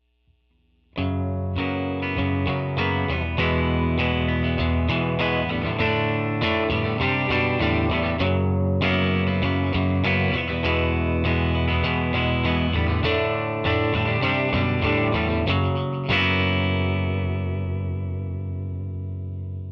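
A bright, trebly Fender Jazz Tele Parallel Universe electric guitar strums chords on the bridge pickup in a steady rhythm, with a shimmering chorus-like effect, ringing out alone and sustaining on the final chord.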